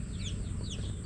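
A mother hen on a farm clucks softly in a short, low run of repeated calls close by, fairly faint, with faint higher chick peeps.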